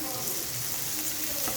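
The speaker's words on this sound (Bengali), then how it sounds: "এবার এই কাজুগুলো একটু ভাজা হবে তেলে" Cashew nuts frying in oil for a chira polao, a dense, steady sizzling hiss heard close up for a brief moment.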